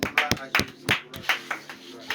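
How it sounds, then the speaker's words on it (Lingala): Scattered hand claps from a church congregation at a French-speaking Christian gathering, several sharp separate claps spaced irregularly rather than sustained applause, with voices talking in the background. "acclamons pour la lecture"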